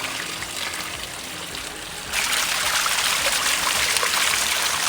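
Cold fresh mountain stream water flows on Chembra Peak in Wayanad, a steady close hiss and trickle that grows louder partway through, with no talking.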